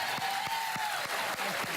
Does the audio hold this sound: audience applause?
yes